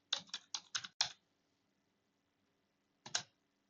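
Keys clack on a computer keyboard: a quick burst of five crisp keystrokes, a pause of silence, then one more key press, close and clear.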